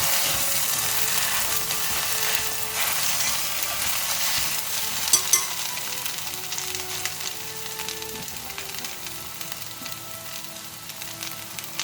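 Cooked rice is stir-fried with egg and sesame oil for soy sauce egg fried rice, giving a steady close sizzle throughout with scraping, clinking stirs of a utensil against the pan, and no talking.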